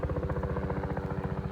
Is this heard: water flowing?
no